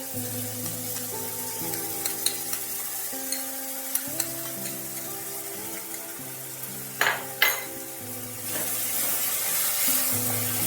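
Spice paste goes into okra frying in a pan for okra do pyaza, with a constant sizzle, a few sharp utensil clinks and a louder hiss toward the end, set against soft background music.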